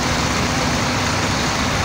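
An Irizar-bodied bus pulls in at the Paradouro Batistella truck-stop restaurant in Guararema, São Paulo, its engine giving a steady, close, broadband rumble with no pauses.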